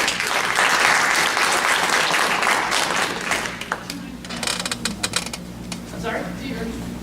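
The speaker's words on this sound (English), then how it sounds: "So let's give them a warm Greater Dayton Rio warm applause." An audience at a community talk about a land bank applauds to welcome the speakers. The dense, loud clapping fills the first half and then thins to scattered claps as people start talking.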